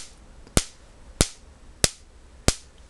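Electric sparks snapping at a wet screw tip, four sharp, loud pops evenly spaced over a low hiss.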